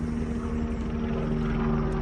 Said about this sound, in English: I'll just let this rather loud helicopter go over the top of me